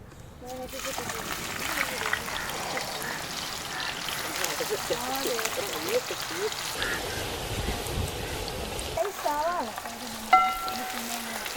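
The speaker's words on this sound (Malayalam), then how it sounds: "അപ്പോൾ അതിലേക്ക് ഇനി ഉള്ളി ഇട്ട് ഒന്ന് വഴട്ടിയെടുക്കുകയാണ്." Sliced onions sautéing in hot oil for a homestyle chicken dum biryani, a steady close sizzle and crackle with occasional stirring splashes, while people talk over the frying.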